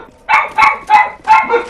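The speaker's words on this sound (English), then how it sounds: "Pardon me if you hear my dogs in the background." Several dogs bark in the background in a quick series of five sharp, fairly loud barks with short gaps between them, heard during gameplay commentary.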